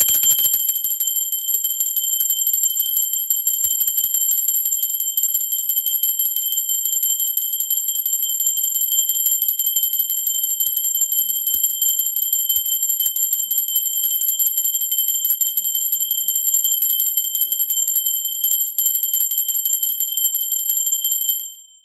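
A bright bell rings with a sustained, shimmering high tone that holds steady and loud for about twenty seconds before cutting off, heard alone without speech.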